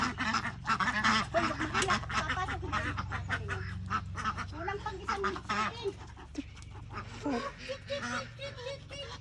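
Farmyard ducks quack busily and without a break as they are fed in a rural setting among chickens, with voices talking over the flock.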